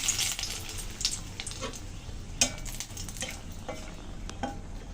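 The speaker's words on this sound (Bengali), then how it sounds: "ফোড়নে দিয়ে দিচ্ছি আমি শুকনো লঙ্কা," Dried red chilies and a bay leaf hit hot oil as tempering, crackling with a bright steady hiss, and a few utensil taps and stirring knocks sound close by.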